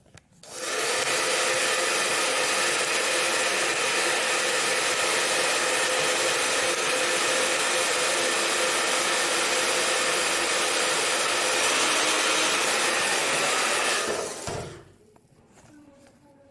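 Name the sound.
hair dryer drying eyelashes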